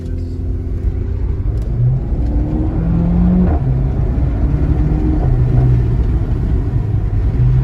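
A Renault Mégane RS on its stock exhaust accelerates with a steady loud rumble from inside the cabin, engine pitch rising and shifting through gears, with no talk.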